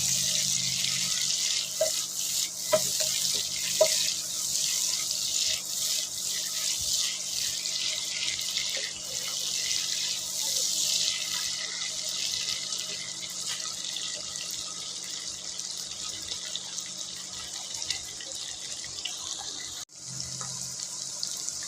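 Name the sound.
chopped onions frying with shrimp in pan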